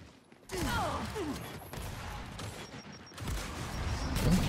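Gunfire in the Gears of War video game, a loud burst of shots and impacts, then continuing rattling weapon fire and mechanical noise with swooping effects, all in close game audio.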